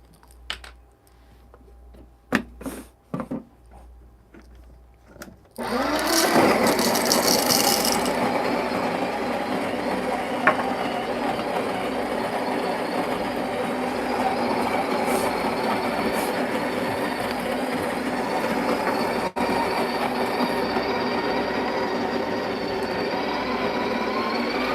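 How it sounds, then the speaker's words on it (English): A Breville Barista Express grinds coffee beans with a loud, steady mechanical whir that starts abruptly after some brief handling clicks and runs continuously to the end. "Let's grind some coffee beans here."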